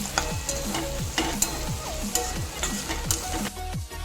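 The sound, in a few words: chopped onions frying in hot oil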